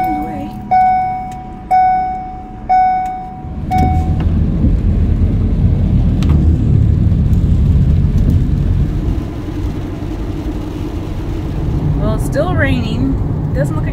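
A thunderstorm with heavy rain is heard from inside a car in Florida, a dense, loud roar of rain on the vehicle with deep rumbling, after three chime-like beeps at the start.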